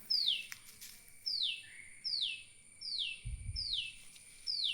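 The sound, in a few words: bird calling in trees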